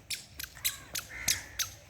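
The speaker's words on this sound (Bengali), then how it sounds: "কাক কোথায় ডাকতেছে দেখো তো" A crow caws in a quick series of six short, harsh calls outdoors, faint and somewhat distant with near silence between them.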